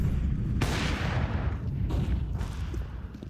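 A decoy grenade in Counter-Strike fakes gunfire, a sharp burst of shots cracking out at once, then a few duller, distant pops and a fading rumble.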